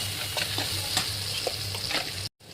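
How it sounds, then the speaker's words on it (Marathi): Masala with coriander powder and Malvani spice frying for Konkani prawn biryani, a steady close sizzle broken by repeated scraping stirs, ending in a sudden brief silence. "तर आपण व्यवस्थित एकजीव करून देऊया."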